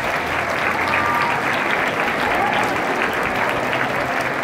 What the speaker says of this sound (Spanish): Un aplauso para la maestra Laura.